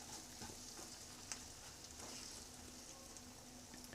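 Green chillies and spices frying gently over low to medium heat in a pan, a steady soft sizzle with faint crackles and a brief stirring clatter near the middle, alone without talk.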